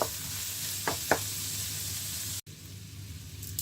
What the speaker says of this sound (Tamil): இதில் ஒரு 8 to 10 பூண்டு எடுத்து நல்லா குத்தி வச்சிருக்கிறேன். அதையும் சேர்த்து வதக்கி கொள்ளுறேன்.